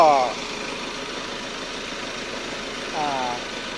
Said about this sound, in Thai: สามารถ สตาร์ท เครื่องยนต์ได้